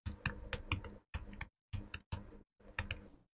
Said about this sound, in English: so you can go ahead and just type that in here.